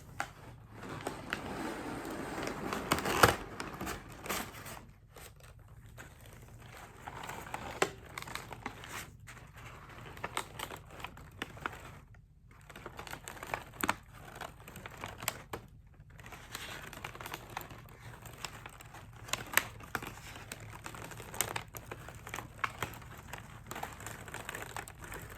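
Packaging paper is crumpled and handled during an unboxing, with irregular close crinkles and rustles, soft to moderately loud, scattered across a quiet room.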